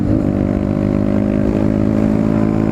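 Honda CB125R 125cc motorcycle engine droning loud and steady with a clear harmonic hum, rev pitch shifting slightly as the rider changes down a gear.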